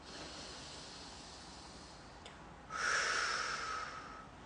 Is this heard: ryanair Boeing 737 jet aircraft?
no